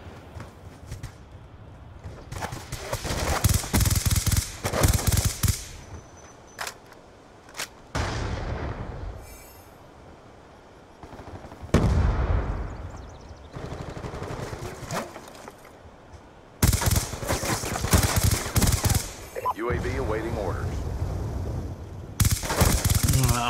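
Submachine gun fire from Call of Duty Black Ops 2 multiplayer comes in rapid automatic bursts, loud and close, separated by short lulls and scattered single shots.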